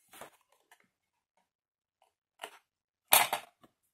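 Scissors cutting through cardboard for a box with a slanted lid, a few short crunchy snips spaced apart, the last one loudest, close up in an otherwise quiet room.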